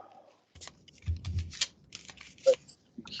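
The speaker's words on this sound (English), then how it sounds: "I'm getting my cards. They are being shuffled." Playing cards shuffled by hand during a psychic reading, a few brisk riffling and rustling bursts with soft taps, close and fairly quiet, with brief speech-like sounds between them.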